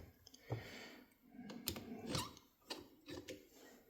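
A screw being threaded into the end of a carburetor emulsion tube on a John Deere DLTX, with faint close metallic clicks, scrapes and small mechanical taps at irregular intervals, very quiet overall.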